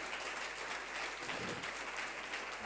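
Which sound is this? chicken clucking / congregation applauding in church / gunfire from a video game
congregation applauding in church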